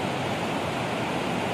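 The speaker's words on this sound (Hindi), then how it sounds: "ਇਹ ਪਾਣੀ ਕਲਾਮ ਕੀ ਤਰਫ ਸੇ ਆ ਰਹਾ ਹੈ" River water from the Kalam valley in winter rushes past in a steady, loud, broadband roar that stays even throughout, with no voices.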